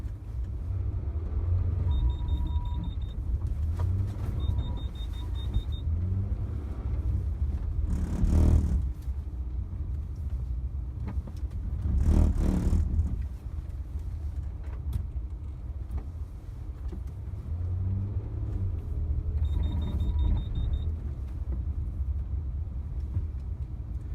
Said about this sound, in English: I'll just stop talking now so you guys can hear the car work.